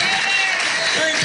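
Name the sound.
audience applause in TV studio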